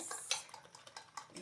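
Light clinks and taps of cookware and utensils in a pan as eggs go in for a vegetable Rolex, quiet scattered clatter over a soft background.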